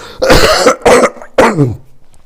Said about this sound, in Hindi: वीडियो में हमारी आवाज के साथ आपको खांसी की भी आवाज सुनाई दे सकती है